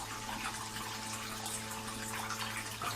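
Wort trickles and splashes steadily as it recirculates through a partly closed valve on a homebrew mash tun during a weissbier brew, a soft continuous liquid pour over a low background hum.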